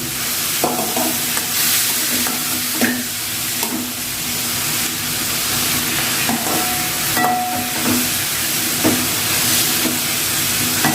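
Onions and tomatoes sautéing in a pan for vendakkai puli kuzhambu, a steady loud sizzle with periodic scraping stirs of a spoon across the pan, no voices.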